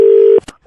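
A loud, steady telephone tone sounds for a moment and then cuts off, followed by a couple of faint clicks and handling noises.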